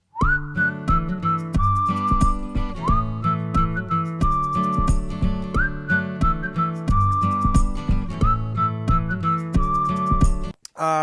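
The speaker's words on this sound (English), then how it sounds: "the next most important element here is the whistle" Clear, in-tune whistling carries a repeating melody over a steady music backing, with rising slides into sustained notes, loud and close throughout.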